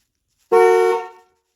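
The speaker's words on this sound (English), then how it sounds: "if you touch this, the horn should honk." A single loud honk from the horn of a Lincoln Town Car, sounded up close while testing a remote start install, lasting about half a second and then cutting off.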